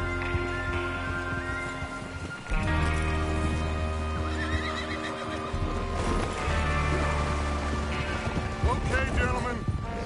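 Horses in Red Dead whinny and snort amid clip-clopping hooves and shuffling movement, fairly close, with wind-like noise in the background.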